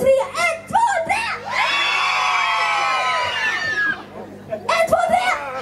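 A concert audience at an outdoor show in Kopphagen, Länna screams together on a count of three, a dense sustained roar of many voices lasting a few seconds, with a lone voice talking before and after it.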